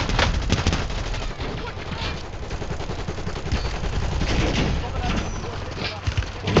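Dense, rapid gunfire fills a round of the video game Warzone: overlapping bursts and single shots crackle continuously at fairly close range for several seconds.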